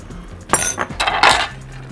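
A utensil clinks and scrapes against a pan as pasta is stirred with cheddar, mozzarella and black pepper, giving a few close, sharp metallic taps and scrapes in quick succession.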